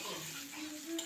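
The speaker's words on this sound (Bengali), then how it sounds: "একই কড়াইতে ভেজে নিচ্ছি ছোট ছোট করে কেটে রাখা আলু।" Small cut potato pieces fry and get stirred in a kadai, giving a steady close sizzle with faint scraping from the stirring throughout.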